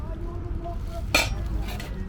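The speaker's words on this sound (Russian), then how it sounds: "Посуда старая" Old East German-era saucepans and dishes handled at a German flea market, a sharp metallic clink standing out over quiet background murmur and faint voices.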